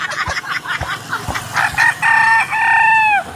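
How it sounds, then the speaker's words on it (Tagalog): A wild chicken rooster crows close by, a loud drawn-out cock-a-doodle-doo call rising and holding, preceded by a few short clucks and scratchy noises. "May manok ilahas ito."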